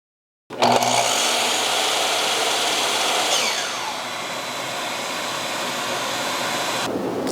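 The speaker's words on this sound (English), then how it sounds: "I have my shop vac and miter saw connected to a switch box. This automatically controls the shop vac on and off whenever I use the saw." A miter saw spinning up together with a shop vac switched on for dust collection: a loud, close, continuous motor whine and airy roar that starts suddenly and holds for several seconds, easing slightly partway through.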